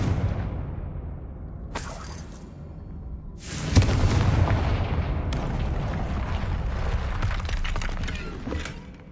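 A Confringo blasting spell from Hogwarts Legacy detonates with a booming, shattering burst, followed by crackling debris and a sustained rumbling roar that trails on, with no talking.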